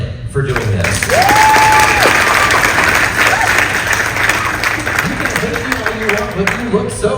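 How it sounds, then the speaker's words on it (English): A convention panel audience at San Diego Comic Con gives a round of applause for Kit: dense, steady clapping from a crowd that fills the room for several seconds, thinning slightly toward the end. "I would like a round of applause for Kit for doing this."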